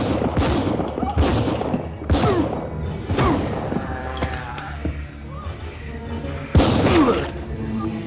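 Gunfire in a scene from the 1993 horror film Jason Goes To Hell: several loud, sharp blasts spaced a second or so apart, each with a booming tail, and voices faintly beneath.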